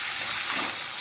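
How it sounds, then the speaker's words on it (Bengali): Fish and vegetables frying in hot oil in a home kitchen, a steady close sizzle with a fine crackle that holds level for about a second, no voices. "চলো এবার মাছ ভাজতে শুরু করে দিলাম"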